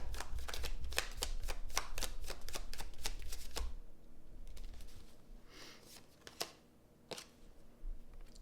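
Rapid riffling and snapping of playing cards in quick bursts, followed by quieter scattered flicks and taps, close up.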